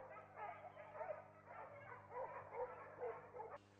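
A hunting dog barks at wild boar during a hunt in the woods, giving a quick string of sharp, rhythmic barks and yips at moderate distance, fairly faint overall.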